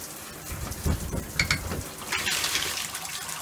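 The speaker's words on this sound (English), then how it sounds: "And get the hot water going, and the cold water going." Water from a gravity feed system runs into a shower with the hot and cold taps open, a steady splashing hiss with a few louder gurgles and knocks early on, close by.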